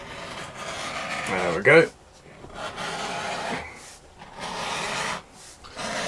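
A hand tool shaves a long sliver off the edge of a leather bag strap, giving rough scraping strokes with a short spoken remark in between.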